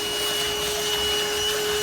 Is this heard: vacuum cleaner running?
yes